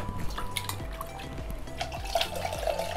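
Water is poured into dal and tamarind for rasam, giving soft splashing and dripping sounds close by with small liquid plops, alone without talking.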